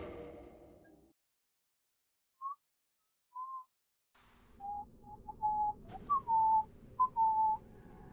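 A person whistles a run of short, high, clear notes, first two isolated tones after a quiet gap, then a quicker string of pitched whistles over faint background noise, with no speech.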